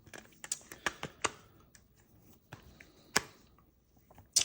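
Clicky button protectors on a Galaxy S24 Ultra case pressed several times, giving sharp, close, quiet clicks scattered irregularly with short gaps between.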